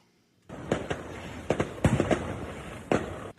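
Fireworks going off in Southern California, a series of sharp booms and cracks at irregular intervals, some clustered close together, heard at moderate distance against a quiet background.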